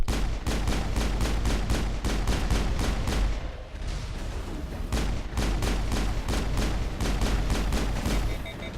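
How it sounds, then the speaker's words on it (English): Rapid bursts of gunfire in the sci-fi shooter Mass Effect, with sharp, evenly spaced shots crackling close and loud in two long volleys separated by a brief lull. "Did I just shoot someone in the head?"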